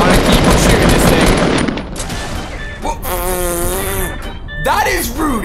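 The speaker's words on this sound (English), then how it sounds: "I'm gonna keep on shooting this thing." Rapid automatic gunfire in the Fortnite video game, a dense, loud burst for about two seconds, followed by other game tones and effects.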